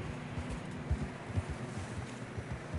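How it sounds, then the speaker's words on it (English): Horses trudging through deep fresh snow in Red Dead Redemption, muffled irregular hoof thuds over a soft wind-like hiss, fairly quiet with no talking. "Horses are struggling."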